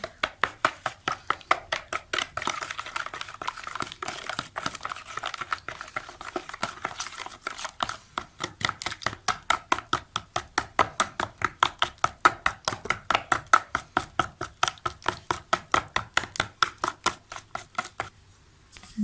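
Ghee is beaten for a cake batter in a steady run of quick, even strokes against a bowl, close and continuous for about nineteen seconds, with no talking.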